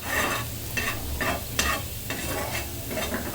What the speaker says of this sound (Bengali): নেড়ে চেড়ে সব দিকে এটা ভালো মতো ভেজে নিতে হবে